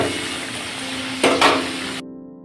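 Chicken frying in a pan with spices and turmeric makes a steady sizzle. Two quick scraping stirs cut in near the end, then the sound drops away abruptly, with no talking.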